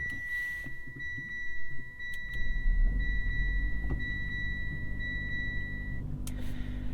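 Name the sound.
Mitsubishi Outlander PHEV starting, chime and combustion engine running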